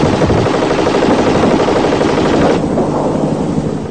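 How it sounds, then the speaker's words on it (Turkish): A helicopter's 20mm cannon fires rapidly and continuously, rattling loudly in a sustained burst, each round blending into a dense roar. "20 milimetrelik top ateşi ve roket atarak teröristlere nefes aldırıyor."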